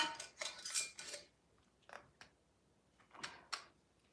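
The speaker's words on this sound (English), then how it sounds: "We're going to put a lid on it for now." A lid is put on a glass jar of homemade apple cider vinegar, producing a cluster of close clinks and rattles followed by a few separate clicks and taps, loud against otherwise quiet surroundings.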